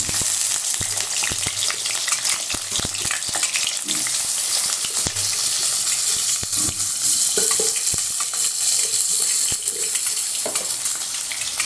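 Potatoes frying and being stirred in a pan for a vegetarian lunch dish, with a steady loud sizzle broken by repeated scraping strokes of a spatula, and no talking.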